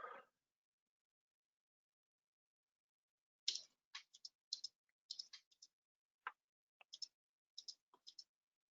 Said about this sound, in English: Just typing a message into the chat box as well.